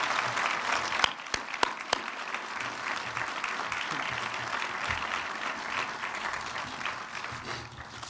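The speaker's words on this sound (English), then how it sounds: "give him a rousing round of applause" A crowd gives sustained, dense applause at a school dedication ceremony, steady and full for several seconds with a few sharp claps standing out early on.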